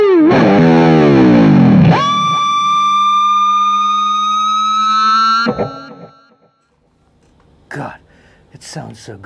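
An ESP E-II SN-II Snapper electric guitar with a fully distorted tone rings out loud in a big chord that sustains for several seconds, then cuts off into near silence before a voice speaks briefly.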